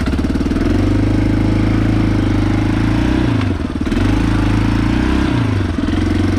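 Yamaha ATV quad bike engine running steadily and loud throughout a ride, a deep rhythmic throbbing drone that briefly dips and changes pitch twice, as with gear changes or throttle lifts.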